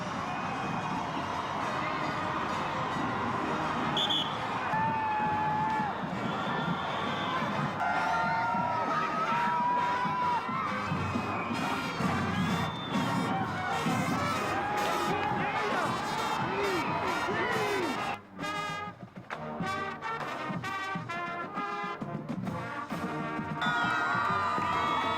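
Crowds cheering at the Macy's Thanksgiving Parade in New York, a busy mix of shouts, whoops and excited voices, moderately loud, with thumps and street bustle and a brief drop near the end.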